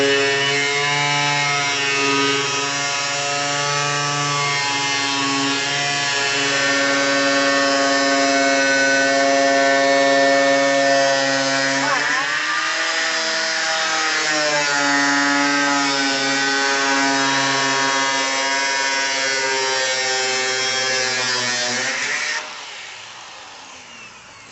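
A power tool grinds and cuts through a Chevy hood, its loud steady whine holding pitch, dipping and wavering midway as it bites the metal, then stopping near the end.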